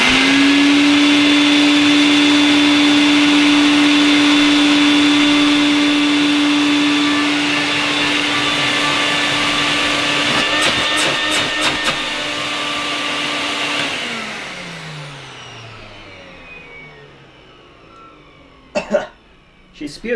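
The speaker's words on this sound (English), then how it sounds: "Right, I'm going to turn it on, move it a little bit out of the way and see if it works." A Vax 111 multifunction vacuum cleaner runs loud and close with a steady whining motor drone, then winds down after about fourteen seconds, followed by a few clicks and knocks.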